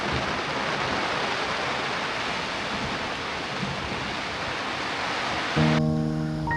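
Heavy rain pounds steadily on a campsite awning on a mountaintop farm as a dense, loud, unbroken roar, and a brief tonal electronic beep sounds near the end.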